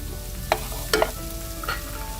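Onions and vegetables frying in a hot pan for black rice with beef and peppers, a steady low sizzle with a few sharp stirring clatters and scrapes in close succession.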